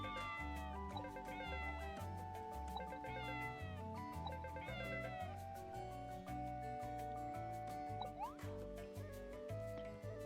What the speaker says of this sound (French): Ah, c'est le chat.